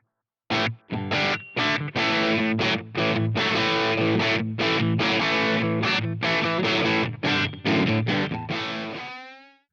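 An electric guitar runs through an HX Stomp delay with short feedback time and few repeats, giving a faux spring-reverb sheen to a rapid, driven, distorted riff of chopped chords that ends on a ringing chord that trails away.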